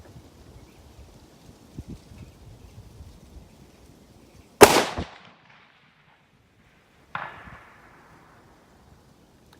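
A Tikka TAC A1 rifle fires one sharp, loud shot toward a steel target on a distance range. A fainter metallic ping from the hit follows a couple of seconds later, with quiet outdoor background before it.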